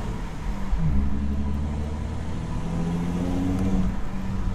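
A 3.0 TDI diesel engine with its intake flap removed revs up, a deep steady rumble with a brief rise near the start and a slight swell later, heard alone without talk.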